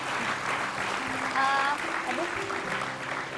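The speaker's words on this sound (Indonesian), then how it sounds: "ya boleh tepuk tangan dulu" A studio audience on an Indonesian TV talk show claps in a steady, moderately loud burst of applause, with a voice speaking briefly over it.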